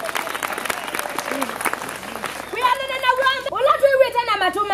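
A church congregation breaks into applause, first a scattered patter of clapping and then a louder, fuller burst of many hands over the final seconds, with a voice rising over it.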